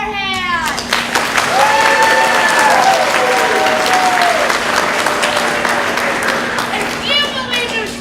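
An audience at a middle school stage production of Peter and Wendy breaks into sustained clapping, mixed with shrill cheers and excited voices that swell and then taper off.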